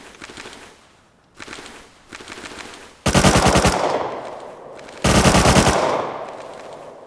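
Bursts of automatic gunfire from AK and MP5 rifles in a Rust PvP fight, with rapid shots aimed at a wall: three short volleys, then two louder, sustained bursts that ring out and decay.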